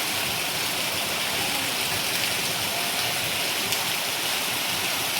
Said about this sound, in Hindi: तेज़ी नाल मींह पै रहा।